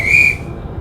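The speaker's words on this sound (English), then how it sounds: "The whistle from the guard was blown." A guard's whistle on a railway, one short, shrill, loud blast lasting about a third of a second, then fading into quiet background.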